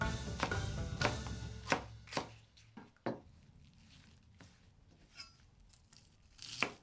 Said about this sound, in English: Slice the long green onion using diagonal cuts.